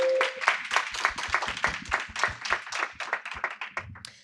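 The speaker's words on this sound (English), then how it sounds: "I hope we can meet him with an applause" Sparse applause from a small audience at a rule-of-law panel, with a few hands clapping in a distinct, fairly close rhythm that continues steadily for about four seconds before stopping.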